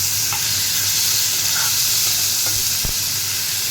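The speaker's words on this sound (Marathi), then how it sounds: "आता टोमॅटो टाकूया आपण यामध्ये आणि टोमॅटो पण छान परतून घेऊया आपण." Onion and tomatoes frying in a pan, a steady close sizzle with soft stirring scrapes and a few brief clicks, no voices.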